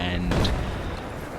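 Battlefield 4 C-RAM base defence gun firing on Caspian Border, a loud sustained burst of booming gunfire with a sharp blast near the start, continuous in-game noise throughout.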